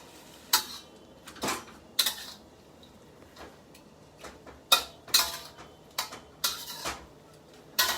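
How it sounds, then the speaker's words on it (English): Vegetables being stirred in a stir-fry pan, with repeated sharp metallic scrapes and clinks of a utensil against the pan arriving in irregular bursts over a quiet background. "So he's stirring the vegetables around so that it gets even heat."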